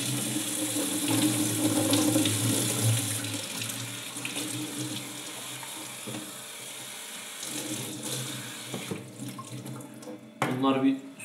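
Water pours steadily from a kitchen tap while fruit peels are rinsed for antioxidant tea, a close, continuous gush that stops near the end and gives way to brief handling clatter.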